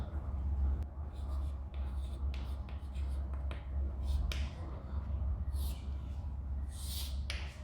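Pen or pencil scratching and tapping on paper while a geometry figure is sketched, short irregular strokes and ticks close up over a low steady background hum.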